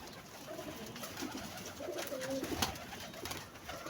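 Soft, throaty pigeon coos repeat against a steady background hiss, with a few louder calls near the middle.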